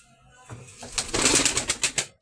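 An ash-speckled tumbler pigeon coos close by, a soft low rumble that swells into several rhythmic pulsing calls before stopping abruptly.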